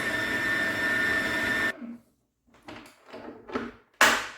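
A noisy electric mixer whips a homemade gumpaste mixture toward soft peaks, a loud steady whine that cuts off abruptly, followed by a few short bumps and clatters and one sharp final burst.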